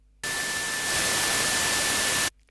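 Noise oscillator on a Micrologue synthesizer, set to a triangle wave with the main volume pulled down. A steady, loud burst of broadband static hiss with a faint constant tone runs alone for about two seconds, then stops abruptly.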